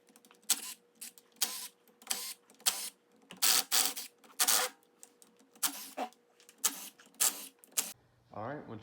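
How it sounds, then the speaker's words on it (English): Clutch cover bolts coming loose on a Honda 300 ATV, a run of loud, short bursts from a powered driver, each a few tenths of a second long and repeated in an uneven rhythm, close up, ending with a brief low mechanical hum. "we're ready to go ahead and start removing the clutch cover bolts"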